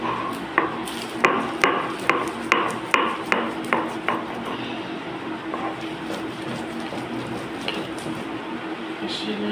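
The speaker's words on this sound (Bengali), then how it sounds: "শিলনোড়ায় ভালো করে বেটে নেব।" Ghetkol leaves and dried chillies are ground on a stone slab, with a quick run of rhythmic knocking and pounding taps up close, then softer scraping and rubbing, with no talk.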